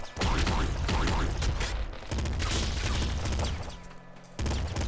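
SMG fire in the Nuclear Throne video game, loud rapid bursts of shots running almost continuously with brief breaks between volleys.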